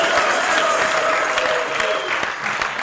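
An audience applauds the winner of a Jeopardy-style quiz game at an international waters conference, a dense, steady wash of many hands clapping close by and loud, sustained throughout with no talk over it.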